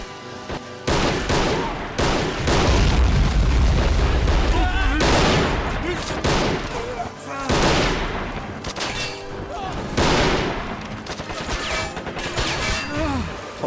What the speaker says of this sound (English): Oh, bazooka fire.